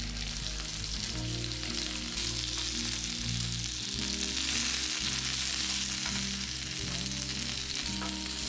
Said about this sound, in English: The barbecue grill was warmed and the chicken skewers were placed on it,